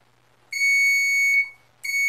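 An electric buzzer wired into a house wiring test circuit sounds in two steady, loud tones, a long one and then a second starting after a short gap, with no talk over it.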